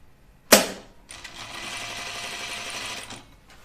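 A sewing machine stitches a knit Kielo wrap dress, starting after a sharp clack and running steadily for about two seconds before stopping, fairly close and alone without talk.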